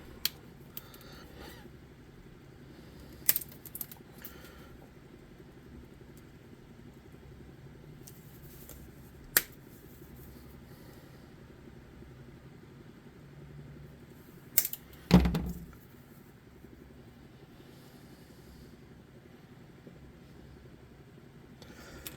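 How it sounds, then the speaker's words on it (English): Tiny bumps are snipped off miniature custom creature wings, giving a few isolated sharp clicks spread over long quiet stretches, with one louder rustling handling noise near the end. "I'm going to snip off these little bumpy bumps here that I don't like"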